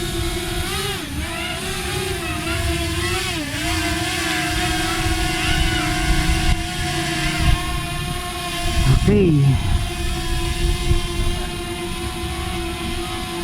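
A small Potensic Atom LT drone hovers and flies outdoors, giving off a steady, fairly loud propeller whine with a few brief pitch wobbles. A person says a word or two near the end.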